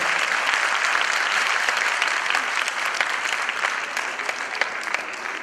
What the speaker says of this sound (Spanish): Fuerte el aplauso para Casto Maldonado.